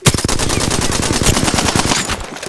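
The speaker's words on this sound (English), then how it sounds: "I am taking fire." Rapid automatic gunfire in the video game Apex Legends, a loud, continuous burst of closely spaced shots running nearly the whole time before tapering off at the end.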